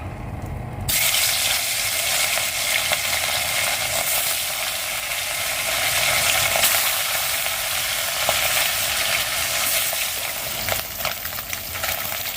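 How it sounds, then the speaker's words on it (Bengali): Fish fries hard in a pan over a strong flame, with a loud, continuous sizzle and intermittent scraping from stirring, heard close and alone without speech. "প্রথমে আমি আগে মাছটা ভাজবো"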